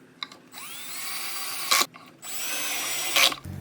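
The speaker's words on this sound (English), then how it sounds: "I drilled a pocket hole at each mark" A power drill bores pocket holes in wood for a French cleat tool shelf, running in two sustained bursts with a rising whine, each ending in a brief louder grind and a short pause between.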